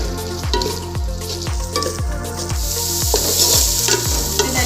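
Chopped tomatoes with ginger and garlic sauté in a hot pan for beef dum biryani, a loud steady sizzle broken by a regular rhythm of spoon strokes scraping and knocking against the pan, with no voices.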